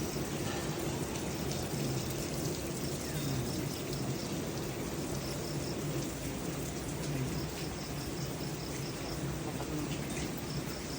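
Steady rain hisses continuously on a rural farm, with insects chirping faintly through it and no talking.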